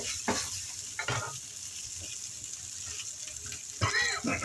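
Chicken pieces stir-frying in a hot pan with a steady sizzle, broken by a few louder scraping stirs near the start and end, close and fairly loud.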